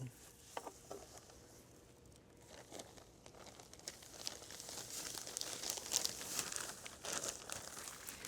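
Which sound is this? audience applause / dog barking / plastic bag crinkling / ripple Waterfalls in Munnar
plastic bag crinkling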